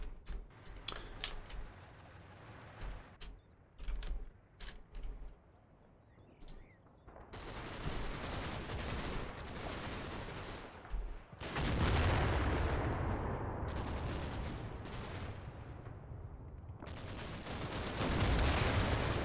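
Gunfire in Combat Mission: Battle for Normandy, with scattered sharp shots early on giving way to long, dense stretches of crackling automatic fire and rumbling battle noise at moderate volume.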